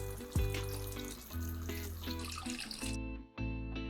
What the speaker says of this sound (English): Place the potatoes in a pot and add hot water until they're fully covered.